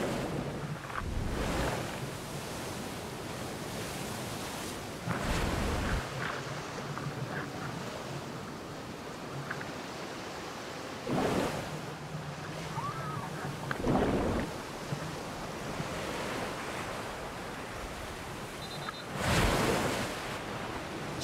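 Ocean waves crash in the breakers along an African shore in a series of heavy, booming surges several seconds apart, with a constant roar of surf between them and no voices.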